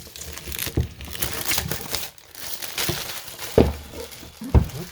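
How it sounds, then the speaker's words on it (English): Shrink wrap being ripped off a board game box makes close, crinkly plastic crackling and tearing, with a couple of sharper pops toward the end. "Let's rip that shrink."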